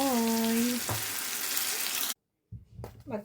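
Banana fritters (lumpia) frying in a pan give a close, steady sizzle for about two seconds, then cut to silence before a brief return of clattering and frying.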